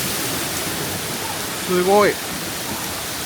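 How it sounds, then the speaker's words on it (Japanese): Waterfall at a remote mountain village in China throwing heavy spray, with a continuous close hiss and rush of falling water, while a man briefly exclaims over it partway through. "水しぶきがやばいやばいやばいやばい。"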